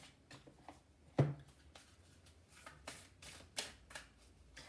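Starseed oracle cards shuffled in short bursts of soft papery riffling, with one louder sharp slap near the start and quieter shuffles after, close by and with no talk.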